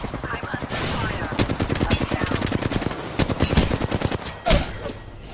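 Rapid automatic gunfire in a video game, dense bursts of machine-gun fire rattling continuously for several seconds, loud and close, with a sharper heavy shot near the end.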